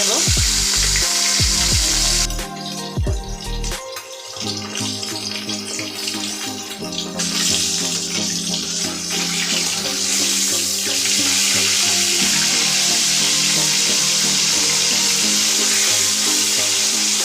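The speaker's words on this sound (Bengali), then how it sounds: "মাছটা আমি এপিট ওপিট করে ভালো করে ভেজে নেব।" Katla fish frying in oil in a pan, a loud, close, continuous sizzle with a few knocks and clatters early on, then a steady crackling hiss to the end.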